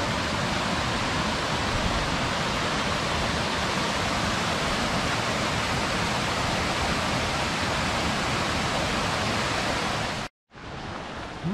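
Rushing water of Big Creek in the Great Smoky Mountains, a dense, steady broadband roar heard close and alone, broken by a brief dropout near the end.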